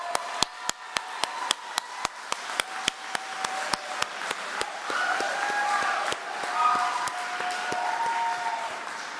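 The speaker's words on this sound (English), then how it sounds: "You're applauding a lot" Sharp, evenly spaced claps ring out at a graduation ceremony, then blend into a denser round of audience applause with faint crowd murmur toward the end.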